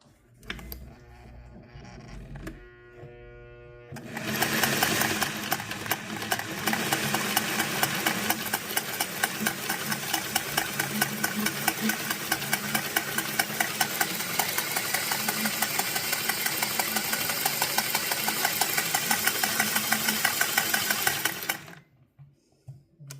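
A Singer 401A Slant-o-Matic sewing machine starts up and stitches continuously in a fast, even mechanical whir with rapid rhythmic ticking, close and loud for nearly twenty seconds, then stops.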